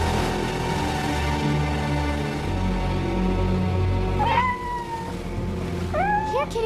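A cat meows several times near the end, drawn-out plaintive cries over a steady background of dramatic soap-opera music.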